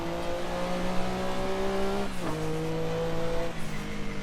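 A Porsche 962C race car laps the Nordschleife in Assetto Corsa, its engine droning at high revs with two quick downshifts that drop and recover the pitch, over steady road and wind roar.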